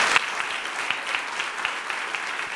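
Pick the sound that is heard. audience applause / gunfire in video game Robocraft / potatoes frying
audience applause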